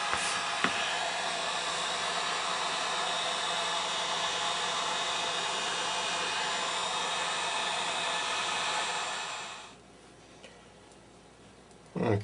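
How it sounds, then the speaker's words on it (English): A heat gun or hair dryer blows a steady, loud airy whoosh while softening gooey material during a Philco 15DX radio restoration, running continuously for about ten seconds before cutting off into quiet. "Let's try some heat."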